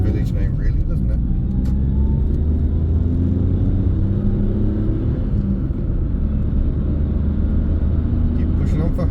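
A Daihatsu Charade L251 drives along with a steady low engine and road rumble heard from inside the cabin, loud and continuous, while someone talks over it.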